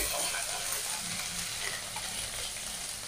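Ginger paste frying with tomato in a pan, a continuous gentle sizzle with faint scraping stirs, fairly close and even throughout.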